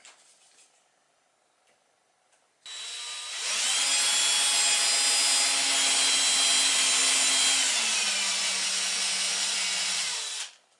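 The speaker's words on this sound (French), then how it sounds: "On ponce un peu." A wooden toy pirate boat part is sanded with a power tool, a loud steady buzzing grind that starts abruptly after a quiet moment, runs for about eight seconds, then cuts off.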